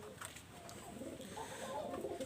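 A Pakistani high-flying Teddy pigeon coos softly and faintly in a brief, low murmur over a quiet background.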